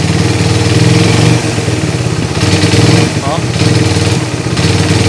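A Raider 150 Gen 2 motorcycle engine runs at a steady idle nearby, warmed up before an overhaul, its constant mid-pitched drone dipping slightly at moments while a voice briefly exclaims over it.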